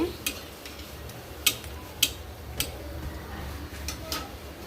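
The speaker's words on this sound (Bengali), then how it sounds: "এখানে পিঠা ভাজা শুরু হয়ে গিয়েছে" Pitha cakes frying in hot oil, a faint steady sizzle with a few sharp clinks and ticks of a utensil against the pan scattered through, heard alone without talk.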